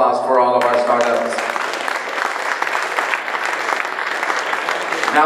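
A crowd applauding at a Shark Tank startup event in San Francisco, with dense, sustained clapping that fills the room and follows a few words of a speaker at the start.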